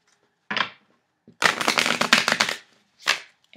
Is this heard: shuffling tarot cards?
yes